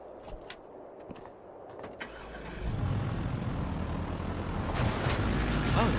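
A truck engine in a video game cranks and catches, rising into a steady, loud rumble that swells further toward the end.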